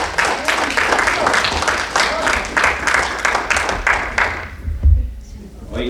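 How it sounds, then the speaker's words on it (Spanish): A church congregation applauding together at a worship service, loud, dense clapping that holds steady for several seconds before thinning out, with a voice briefly audible near the end. "Da un fuerte aplauso al Rey de Reyes"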